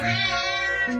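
A cat cries with a single drawn-out, plaintive meow, close and loud, with a tonal wail that rises again near the end.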